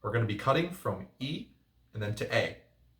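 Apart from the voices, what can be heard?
No everyday noise stands out behind the speech.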